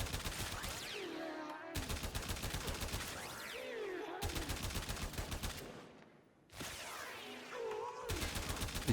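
Automatic rifle fire from the Braton in Warframe, rapid steady bursts of shots repeating in several long strings with brief pauses between them, loud and dense, with no talking.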